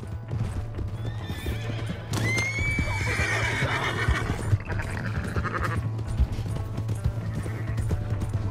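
A horse in the Red Dead Redemption 2 video game whinnies loudly with a rising, wavering call, while hooves clip-clop steadily nearby over a low ambient hum; no one speaks.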